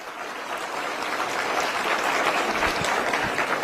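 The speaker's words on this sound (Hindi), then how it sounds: "एक बार जोरदार तालियां भाई" A crowd at a political event in Delhi claps steadily, a dense wash of applause that holds at an even level throughout, with no pause.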